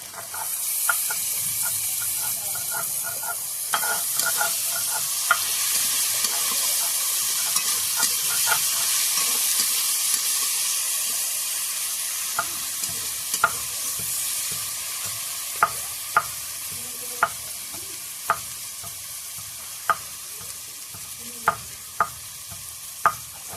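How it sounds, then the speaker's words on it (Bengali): Onion fries with salt in a pan before garlic paste goes in, a steady sizzle and hiss under repeated sharp scrapes and taps of a spoon stirring against the metal, close and continuous. "দেখো পেঁয়াজ লবণ দিয়ে ভাজছি, কত নরম হয়ে গেছে"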